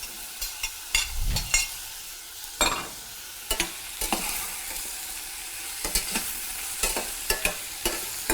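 Tomato and condiments sauté in a pan for a steamed rice dish, a steady close sizzle broken by frequent clinks and scrapes of a utensil stirring against the pan.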